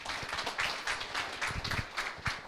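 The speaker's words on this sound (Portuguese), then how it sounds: "Por favor, salva de palmas para Badu." Audience applause for a speaker at a business school talk event: a steady patter of many hands clapping, moderately near and fairly quiet, with no voices over it.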